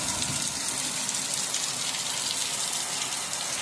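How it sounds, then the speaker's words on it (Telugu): Heavy rain pouring steadily outside a house, spray blowing indoors, a dense, continuous hiss of drops on surfaces with no pauses and no voices. "ఎంత గట్టిగా పడుతుందో వాన."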